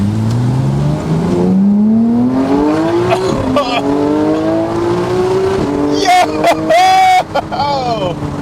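Manual Porsche engine revving up through a long rising acceleration, the pitch climbing steadily, then dropping on a shift and pulling again, loud and close inside the car, with brief whoops and exclamations from people in the cabin over the top.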